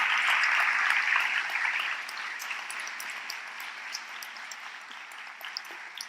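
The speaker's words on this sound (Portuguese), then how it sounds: "aplaude o Senhor Deus" A church congregation applauds together, a dense steady wash of clapping that is loudest at first and gradually thins and softens, with no talking over it.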